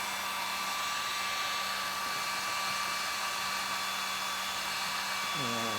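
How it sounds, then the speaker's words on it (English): A heat gun blows steadily on a plastic bumper cover, giving a constant loud whooshing hiss with a faint whine, uninterrupted throughout. "I'm going to use my heat gun here."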